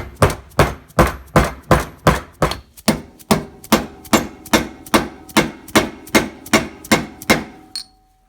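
A socket is hammered to drive a lower unit seal into a 1977 Evinrude 15HP outboard motor, giving a steady run of about sixteen sharp, evenly spaced metallic strikes, close and loud, with no talking.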